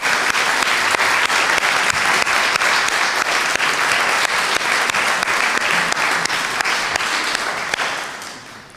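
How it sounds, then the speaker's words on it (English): Sustained, dense applause from an audience at a congregation's annual meeting, honoring the minister and his wife; many hands clap steadily and loudly for about eight seconds before tapering off at the end, with no talking over it. "I just want us to give a special round of applause and thanks for the dedication of our minister and his wife."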